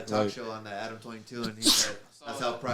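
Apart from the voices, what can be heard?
sneeze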